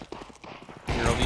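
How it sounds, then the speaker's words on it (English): Grenades pop in Counter-Strike during a pro league match: a quiet stretch of faint clattering, then a sudden loud blast that carries on as a harsh, rough burst. "Here are these nades popping out."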